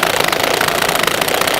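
A DeWalt cordless drill straining hard under load with its clutch slipping, giving a loud, continuous buzzing grind with rapid rattling pulses.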